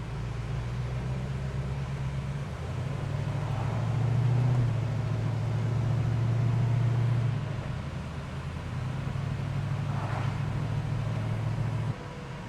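Constant low hum and airy rush of a Vintage Air air conditioning unit blowing inside a 1966 Ford Mustang, swelling slightly in the middle with a faint passing swish near the end.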